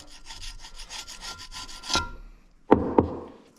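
Steady scraping and rubbing as rust is scrubbed off a Ford 460 cylinder head, rhythmic strokes for about two seconds, then a pause and two sharper knocks or clanks.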